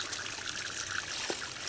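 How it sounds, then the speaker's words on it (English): Fresh water trickles steadily out of a natural spring beside old resort ruins, a soft, continuous close-up flow with no speech. "I'm impressed by the volume of water that's coming out of here"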